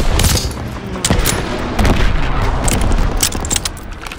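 Dense gunfire in Call of Duty: WWII during a battle in a town square against half-tracks, rapid overlapping shots and booms, loud and continuous, with faint shouting underneath.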